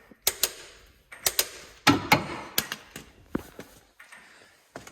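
A ratchet wrench tightens a bolt on a Ford 1.6 EcoBoost engine during a timing belt job, giving close, sharp metallic clicks and short clattering bursts in irregular groups, with no speech.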